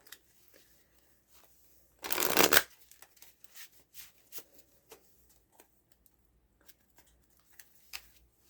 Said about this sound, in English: I shuffle as I ask the question